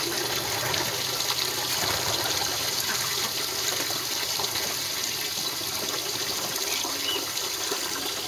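Water runs steadily from a tap or hose for pigeons to shower and bathe in on a hot day, a continuous close splashing gush with no voices.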